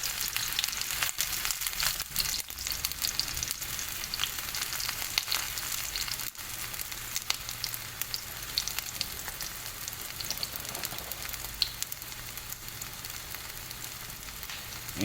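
Burger patties frying in a pan give a steady, close sizzle with crackling and popping throughout, no talking over it.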